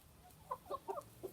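Backyard chickens clucking in a few short, separate bursts close by, with quiet gaps between calls and no talking.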